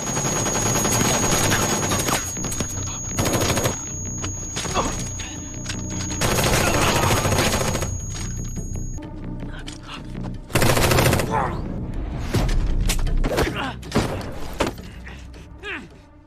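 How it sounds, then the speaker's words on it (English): Heavy gunfire rattles through a film firefight at a safe house, with sustained automatic bursts, loud single shots and impacts packed close together, mixed with a dense action soundtrack. "A firefight breaks out."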